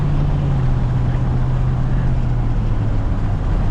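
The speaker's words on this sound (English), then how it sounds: "He's got a dump truck, he'll run me over." A heavy diesel dump truck engine rumbles steadily and loudly close by as it drives past, a constant low drone with no voices.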